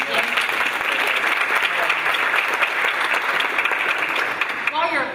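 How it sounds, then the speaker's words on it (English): Sustained audience applause at a conference after a moderator is introduced, a dense, loud, continuous roar of clapping from a large room that fades toward the end as a voice begins speaking. "While you're applauding"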